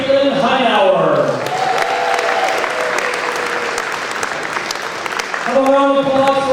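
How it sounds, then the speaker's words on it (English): Crowd applauding at a high school bocce senior night, sustained loud clapping with some cheering, while an announcer speaks over it at the start and end. "Have a round of applause for underclassmen, Shaler Titans."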